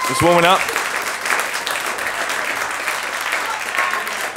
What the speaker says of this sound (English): round of applause to the candidates for that round of questions